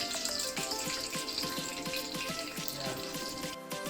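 A batch of vegetable and turkey spring rolls frying in oil in a pan gives a dense, steady sizzle with fine crackling pops, close and even throughout.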